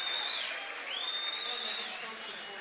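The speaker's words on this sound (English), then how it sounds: "you can see it is a rabid crowd tonight" A rabid basketball crowd roars steadily with cheers and applause during lineup announcements before a 5A playoff game between Douglas County and Greeley West, the noise loud and sustained throughout with a shrill whistle-like tone riding on top.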